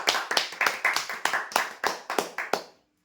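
Applause for a prize draw winner, a short run of about ten sharp, evenly spaced claps, fairly close and moderately quiet, with no talk over it.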